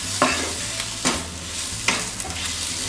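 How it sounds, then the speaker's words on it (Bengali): Spices sautéed in a pan for khichuri over a medium flame, with tomatoes softening and a pinch of sugar in the mix: a soft steady sizzle broken by three distinct scraping stirs, close and moderately loud, with no voices. "এবার আমি সমস্ত মশলা দিয়ে একটু কষবো।"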